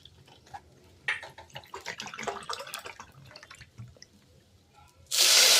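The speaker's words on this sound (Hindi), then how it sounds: "अब इसमें हम पानी डालेंगे।" Water poured into a pan of roasted rice for jeera rice, a brief splashing trickle with scattered drips, then a louder, steady rush of pouring at the end, heard close up.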